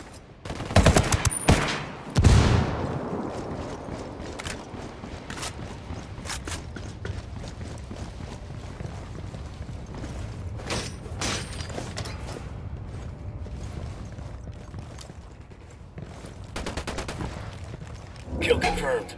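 Gunfire in the video game Ghost Recon Wildlands during a prison break: sharp rifle shots and rapid bursts crack out at irregular intervals, loudest early on, with voices talking over the fighting.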